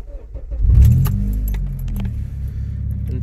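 Keys jangle, then a 2006 Honda Civic Si engine cranks and catches, settling into a low steady idle close by.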